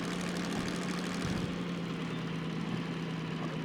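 A DM3 diesel-mechanical locomotive, a BR Class 03 analogue, idles in the video game Derail Valley with a steady, deep engine throb and low rumble that holds at an even level, close and unbroken.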